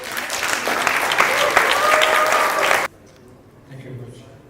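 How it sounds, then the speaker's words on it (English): An audience at a medical conference pitch session claps in a loud, dense burst of applause lasting a few seconds, then stops abruptly, leaving quiet room noise. "Round of applause."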